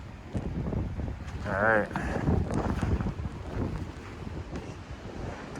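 Strong blizzard wind roaring across a microphone outdoors in Southern Ontario, a continuous heavy buffeting rush with gusts, while someone speaks briefly over it.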